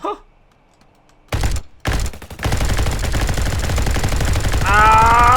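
Gunfire in a Call of Duty-style shooter game on Roblox: after a quiet start, sharp shots crack out, then sustained rapid automatic fire rattles loud and steady, with a brief tonal game cue near the end.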